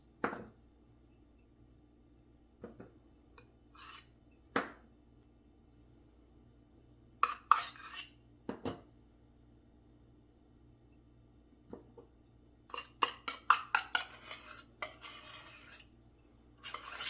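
A spoon plopping dollops of peanut butter onto bars and spreading them, making scattered light clinks and scrapes against the pan with quiet pauses between, close and soft.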